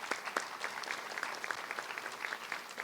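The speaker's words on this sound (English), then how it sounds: "Let's give him a round of applause." Steady round of applause from the crowd at an adult education graduation ceremony, many hands clapping in a continuous, moderately loud patter with no talking over it.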